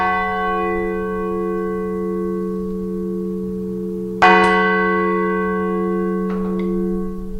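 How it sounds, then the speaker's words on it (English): An old Sanctus church bell, the 8th of a ring, rings on with a steady tone, then is struck in the middle of its sound bow, giving a loud, close clang that hums long. A lighter second strike follows with no talk. "this is used for Sanctus, the Sanctus bell for communions on a Sunday morning. But I'm now going to hit it in the middle of the sound bow"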